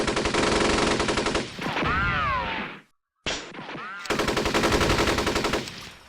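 Machine gun fire in the Steel Panthers WW2 war game comes as rapid, loud bursts of rattling shots, broken by whooshing effects and a brief silence before another sustained burst.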